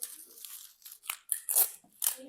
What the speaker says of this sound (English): Cut out a nice little piece of bubble wrap.